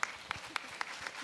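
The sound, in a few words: applause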